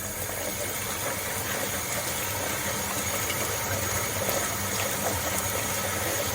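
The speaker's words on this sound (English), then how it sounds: "And I'm gonna wash these now. Just wash the vegetable." Vegetables being rinsed under a running kitchen tap, a steady broadband rush of water that holds at an even level throughout with no talking.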